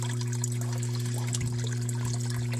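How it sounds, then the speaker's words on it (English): Water flows steadily into an aquaponics grow bed with a bell siphon, a continuous trickling, splashing stream layered over a constant low pump hum, with no pauses. "So I'm going to just turn the water on here so we can get a little bit of a flow going"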